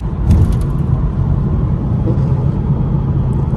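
A Ferrari 458 Speciale sports car rumbles nearby, a continuous low engine roar holding steady through the short stretch, heard outdoors without talk.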